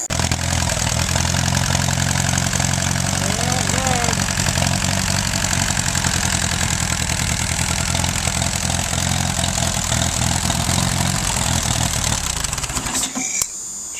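An Allis Chalmers B tractor engine cranks and runs with a loud, continuous low chugging rumble for most of the stretch, then cuts out near the end.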